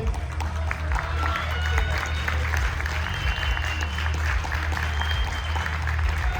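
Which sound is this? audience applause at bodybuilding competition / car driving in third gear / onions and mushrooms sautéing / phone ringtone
audience applause at bodybuilding competition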